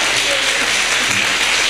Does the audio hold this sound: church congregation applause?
yes